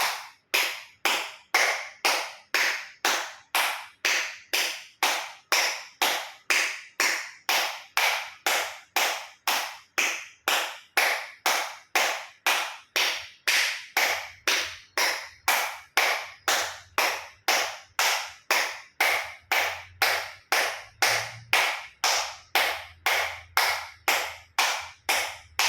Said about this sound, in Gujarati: એક્યુપ્રેશર તાળી પૂરેપૂરા પંચાંગળીઓ બધું ટચ થાય એ રીતે 50 વખત જોર જોરથી તાળી